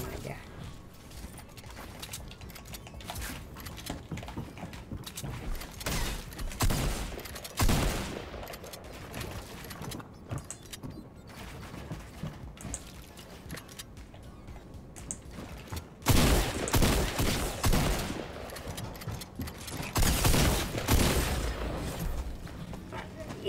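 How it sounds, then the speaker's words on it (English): Gunfire in the Fortnite video game, with rapid bursts and shotgun blasts among mechanical clatter, louder volleys later in the clip, while a player talks over the game sounds. "I'm just getting shot in the back the whole time."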